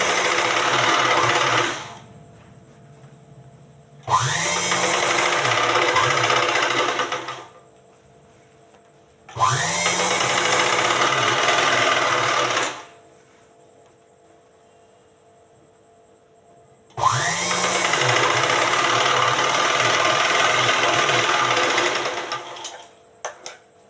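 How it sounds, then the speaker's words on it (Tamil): A sewing machine stitches around a nighty neck in four bursts of rapid whirring, each lasting a few seconds with short quiet gaps between, close and clear with no voices. "தையல் போட்டுக்கிடணும்"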